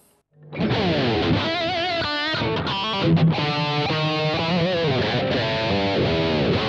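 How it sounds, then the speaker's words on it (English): An electric guitar plays a rock lead with a distorted tone through a Boss GT-10 multi-effects unit: a steady, loud run of sustained, bending notes with no talking. "And now let's hear a more rocky sound."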